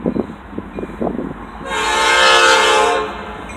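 A Canadian National freight train passes in Effingham, Illinois, with a CSX locomotive in the consist. Brief clanks and rumble open, then a long, loud, steady air horn blast sounds close by for over a second before cutting off.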